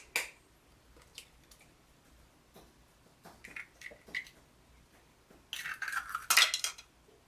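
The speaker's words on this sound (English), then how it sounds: "I'm gonna crack 2 eggs" Two eggs are cracked against a bowl for low-sugar blueberry muffins, giving sharp isolated taps, followed by a brief louder burst of shell and bowl clatter near the end, close and quiet with no talk.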